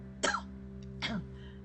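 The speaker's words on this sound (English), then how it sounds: "coughing into a handkerchief" A woman coughs into a handkerchief, two separate rough coughs about a second apart, close and fairly clear over a low steady hum.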